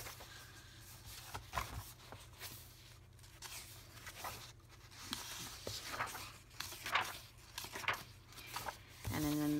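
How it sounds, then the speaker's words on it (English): Pages of a Flow Book paper book, cardstock sheets printed with floral, bird and feather designs, are flipped quickly, giving close, soft rustling flicks and papery crinkles in an irregular run that grows louder toward the end. "I'll just flip through those really quickly."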